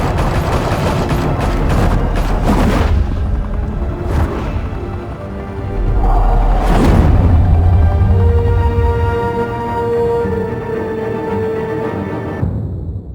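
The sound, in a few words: gunfire in Batman: The Telltale Series video game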